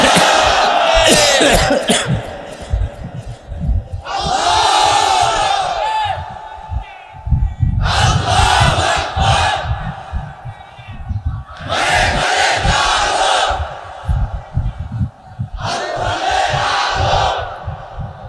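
A large sermon crowd roars takbir in unison, with four or five loud, surging shouts of Allahu Akbar separated by brief lulls where a preacher's voice carries.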